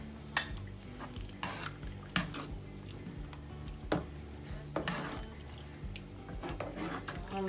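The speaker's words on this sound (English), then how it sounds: "And then I'm just going to stir it all in." A spoon stirs queso into a pot of stovetop dump-and-go soup, giving soft scraping and clinking taps against the pot at an irregular pace, close and fairly quiet.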